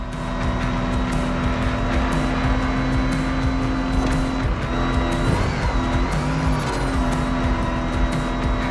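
A rally raid prepped Mustang GT driving in the video game The Crew Motorfest, a continuous loud engine roar with shifting revs, gear changes and occasional tire scrubbing.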